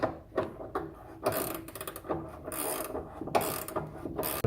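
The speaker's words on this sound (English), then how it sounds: "Now that we got the spring in place, we're going to tighten the bolts." A ratchet wrench tightens rear suspension spring bolts on a 1964 Ford Mustang, giving close, repeated clicking strokes in short uneven bursts.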